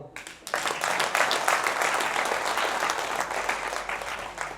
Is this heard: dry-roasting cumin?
no